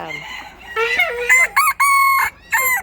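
A rooster crows loudly and close by in several strident bursts, with a brief pause before a final shorter crow.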